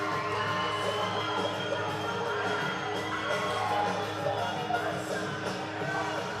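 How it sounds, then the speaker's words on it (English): A crowd at a SoCal Pro Wrestling show in Vista, California gives an ovation, a sustained roar of cheering, whoops and shouting that swells and holds, heard from within the arena, with an announcer's voice over it. "hear the ovation from this crowd for the radiant sun, Jake Redondo"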